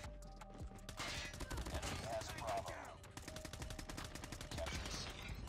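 Rapid bursts of automatic gunfire from Call of Duty Mobile, using a custom M4 LMG build, crackle loud and close in a steady stream across the whole stretch.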